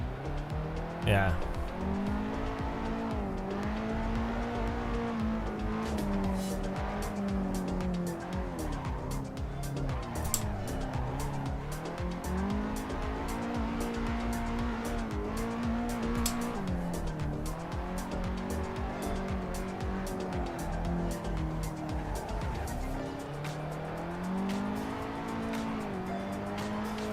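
A drift car in the Assetto Corsa Evo racing game slides through long, wavering tire squeals layered on a steady engine drone, the screech rising and falling in sweeps, while a person talks throughout.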